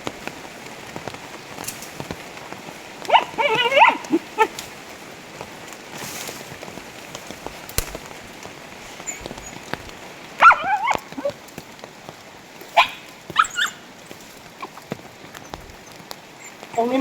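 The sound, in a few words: dog barking in the forest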